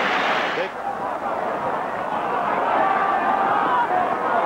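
A rugby stadium crowd roars and cheers after a try by fullback Gavin Hastings, a dense, sustained wash of distant voices that swells briefly at the start and then holds steady under the broadcast.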